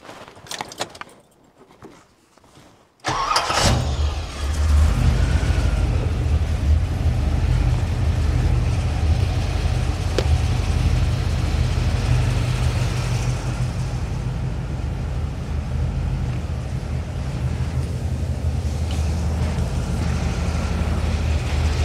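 A 1981 Chevrolet Corvette engine cranks and catches after a few seconds of quiet rattling, then settles into a loud, steady idle close by, with a continuous low rumble for the rest of the clip.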